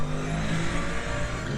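A Mercedes GT3 race car engine drones steadily at high revs in the Le Mans Ultimate racing game, a continuous close, loud tone with a few slight pitch shifts and no voices.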